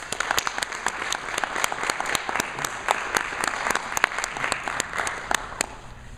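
Crisp, scattered clapping from a small audience at a school board meeting, sustained for several seconds at a steady, moderate level with no talking.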